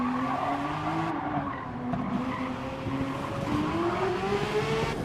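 A Porsche 911 GT3 RS sliding sideways in a racing game at Eiger Nordwand, its tyres squealing in long, wavering tones over steady engine drone, sustained and close throughout.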